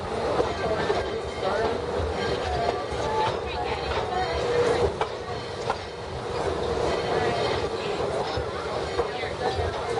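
Steam locomotive No. 192 Katie hauling the Dollywood Express, a steady rumble of rolling coaches with wheel clatter and occasional squeal, heard from aboard amid passenger chatter.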